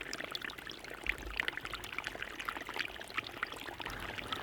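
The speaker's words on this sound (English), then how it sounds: "You can see the water coming in there." Water pours and trickles steadily into the muddy bottom of a drained fish pond, a continuous splashing stream heard at moderate distance, faint and even throughout.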